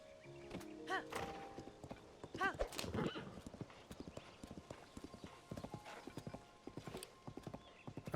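Hooves clip-clop in a steady trotting rhythm from a horse in The Legend of Zelda: Tears of the Kingdom, with a couple of neighs and whinnies early on and someone talking over the game sounds.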